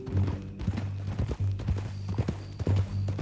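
Horse hooves clip-clop at a steady walking rhythm in the Red Dead Redemption 2 game world, close and fairly loud over a low background tone with faint talk.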